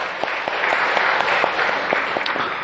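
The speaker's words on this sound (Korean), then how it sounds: "주님께 영광의 박수를 돌리십시다." A church congregation gives steady, dense applause. Many hands clap at an even rhythm at moderate volume, with no speech over it.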